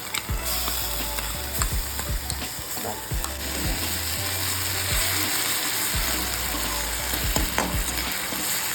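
Ginger and garlic paste frying in a pan, a dense continuous sizzle and crackle with scattered clicks and scrapes of a utensil, close and steady throughout, no talk.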